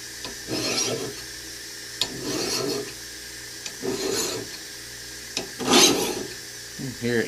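A steel file rasps against another file in repeated scraping strokes, each a gritty burst about a second long with brief gaps, close by.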